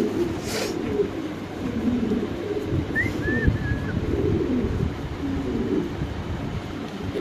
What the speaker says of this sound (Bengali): দর্শক দেখেন কবুতরের ডাক দেখেন